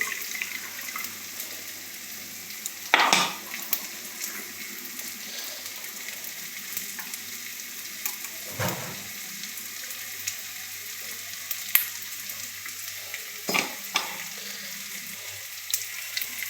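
Coconut milk goes into a prawn curry sizzling in a pan, making a steady close hiss and splash with occasional sharp spoon clatters against the pan, with no talk.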